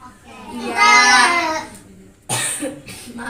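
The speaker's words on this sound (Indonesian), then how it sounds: "kakak lagi batuk soalnya sebelumnya" A person coughs twice, a longer rough burst followed by a shorter sharp one, close to the microphone amid quiet room tone.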